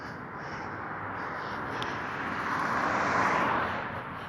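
A camera drone flies overhead, giving a steady whirring hum that swells as it draws nearer and then eases slightly, with no talking over it.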